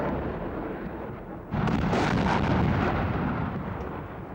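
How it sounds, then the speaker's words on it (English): Russian mortars, shells and rockets bombard Grozny: a low, distant rumble of shelling rolls on, then a sudden heavy blast hits and sustains into a thick, roaring wall of explosions before easing off. "all President Yeltsin's troops were giving Grozny were mortars and shells and rockets"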